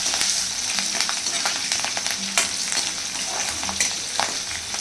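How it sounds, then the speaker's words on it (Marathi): Green chillies frying in oil in a pan until golden, a steady, close sizzle with frequent scraping stir strokes, moderately loud and continuous without speech. "त्यानंतर हिरव्या मिरच्या त्यामध्ये टाकलेल्या आहेत। ते छान सोनेरी रंगाचं होईपर्यंत परतून घ्यायचं आहे।"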